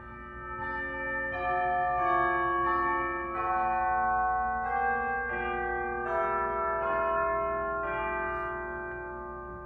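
A Rodgers church organ, formerly a Cambridge 805 fitted with Walker Technology, plays its chimes stop: bright, bell-like struck tones ring out in a slow succession of overlapping notes, each sustaining and decaying, steady and fairly loud with no voices.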